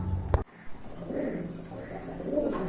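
Pair of Rasgolla pigeons, milky-coloured fancy breed, cooing softly and repeatedly in low rolling phrases, close by, with a brief sharp knock near the start and light background noise.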